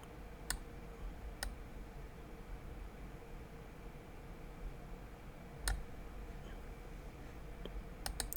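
A computer mouse clicks a handful of times, sharp isolated ticks spaced irregularly over a steady low background hum, close and fairly quiet.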